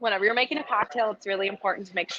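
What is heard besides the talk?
No distinct noise like a dog, phone or traffic.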